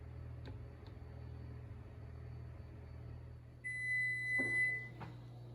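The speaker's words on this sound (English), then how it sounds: "so my timer's done" A kitchen timer sounds near the end while cinnamon rolls bake, a steady high beep lasting about a second and a half over a low background hum.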